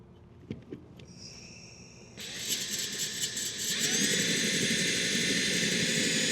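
A cordless power drill fitted with a 1/4 inch bit slowly starts a pilot hole in metal: a few faint clicks, then a rising motor whine that swells and steadies into a louder, continuous grinding drone.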